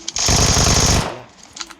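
Rapid automatic gunfire in the video game BGMI, a loud, dense stuttering burst lasting under a second, followed by a few fainter scattered shots.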